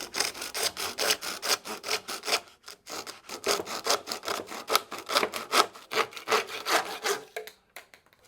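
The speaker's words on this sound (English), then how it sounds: "I guess maybe I only need to cut an inch off of here." A hand saw cuts an inch off a pipe for a sink bottle trap, close and fairly quiet, in quick rhythmic back-and-forth rasping strokes with short pauses before the final strokes.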